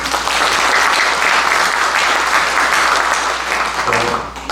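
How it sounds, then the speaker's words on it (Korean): Audience at a Korean academic conference on East Asian future studies applauds a presenter, a steady dense round of clapping that holds evenly for several seconds and fades slightly at the end. "좋은 발표해 주신 우리 조석준 기상청장님께 큰 박수 한번 부탁드립니다."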